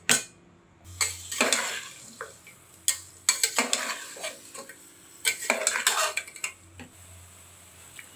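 A spoon stirs chopped onions and turmeric in a pan for mutton kulambu, scraping and clinking against the metal in irregular bursts over a soft background sizzle.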